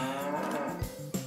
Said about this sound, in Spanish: debo contar todas mis vacas nuevas